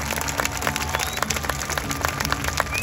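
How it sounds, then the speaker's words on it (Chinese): Audience at an outdoor fire dance show claps and cheers, a steady crowd applause with scattered sharper claps running throughout, moderately loud and fairly close. "看到你们为我们鼓掌，看到你们为我们喝彩"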